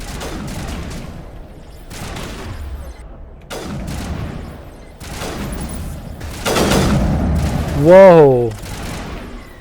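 Rapid bursts of automatic sniper rifle fire in the Mass Effect video game, loud and repeated in clusters, with a swelling effect near the end and a man exclaiming over it.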